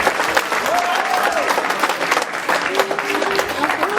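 Steady audience applause at a youth recognition event for young Comorians, with a speaking voice briefly heard over the clapping.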